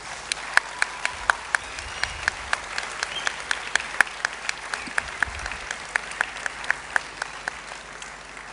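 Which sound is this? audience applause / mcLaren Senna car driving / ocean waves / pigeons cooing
audience applause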